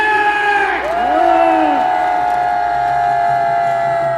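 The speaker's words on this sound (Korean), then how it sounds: "여러분 함성좋으시다" A loud crowd at a Korean March 1st Independence Movement Day rally cheers and shouts together, with whoops and a rising and falling howl or siren-like sweep.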